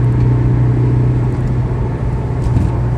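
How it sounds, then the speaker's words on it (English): Automatic Scion FR-S engine droning loudly and steadily at high revs in sixth gear, a close continuous rumble from inside the car with no talk. "keep revving all the way up"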